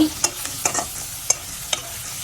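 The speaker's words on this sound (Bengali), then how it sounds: "আর মাছটা ভেজে নিচ্ছি" Hilsa fish head fries in a pan with a steady oily sizzle, broken by several sharp scrapes as it is stirred.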